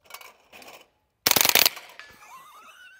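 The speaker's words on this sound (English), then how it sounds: "let's see if I can get it to run with some tracers and hit some skeet in the air" A Tippmann M4 .22LR rifle firing tracer rounds at airborne skeet lets off a rapid, loud burst of several shots in under half a second, then a ringing tail, after quieter rustling beforehand.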